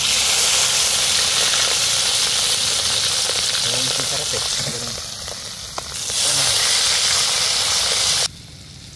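Food, marinated adobo, fries and sizzles steadily in a hot pan at a campsite, loud and close, with a person briefly talking over it.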